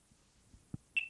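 A Delkim fishing bite alarm pairing with its receiver: a few soft low clicks followed by a single short, sharp high-pitched electronic beep, clear and close in an otherwise quiet space.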